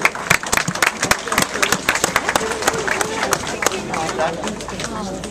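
A crowd at a Bloomsday gathering in Bruff claps, with sharp scattered hand claps that thin into a looser patter while voices talk over them.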